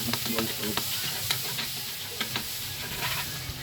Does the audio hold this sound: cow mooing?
no